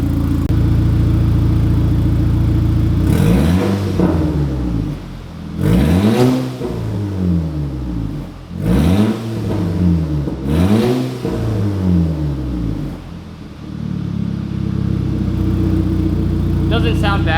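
A Volkswagen Mk6 GTI engine with a new ARM downpipe and midpipe idles, then revs hard four times in a row, each rise and fall roaring loudly up close before settling back to a rumbling idle.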